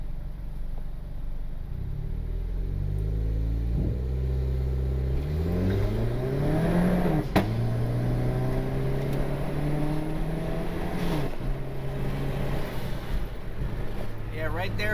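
A turbocharged Honda Civic accelerates at about 70% throttle in D3. The engine tone climbs steadily, drops at two gear changes and climbs again, heard loud and close from inside the car.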